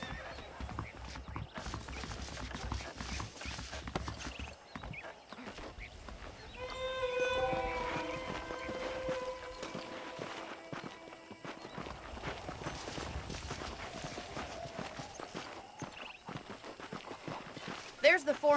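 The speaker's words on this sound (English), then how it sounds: "The horses are saddled up over here." Horse hooves clip-clop at a walking pace in the Red Dead Redemption video game. A horse whinnies partway through, and someone talks over the steady hoofbeats.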